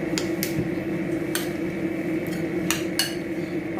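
A spoon clinks and scrapes against a bowl while soy sauce and honey marinade is mixed, several sharp metallic taps spaced irregularly over a soft background hum.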